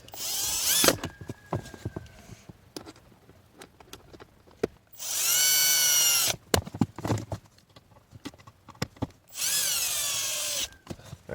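Power tool drives T20 Torx screws back in on a BMW F30 cabin filter housing: three loud, whirring bursts of a couple of seconds each, separated by quieter clicks and handling noises.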